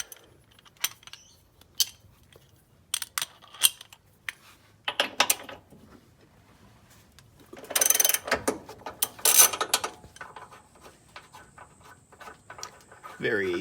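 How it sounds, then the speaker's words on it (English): A bottom nut on a V8 engine mount being undone with a ratchet tool, giving bursts of close clicking and ratcheting with pauses between them and some metallic handling noise. "so now we can undo the bottom nut on the mount"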